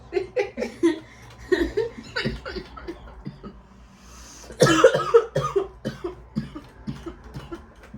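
Someone coughs repeatedly in uneven bursts, with a louder fit of coughing midway, close to the microphone and mixed with some laughter.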